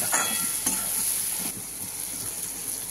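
Spices fried with salt and chilli powder hiss in a pan as a spoon stirs them, with a few scraping strokes over a constant sizzle and no talk.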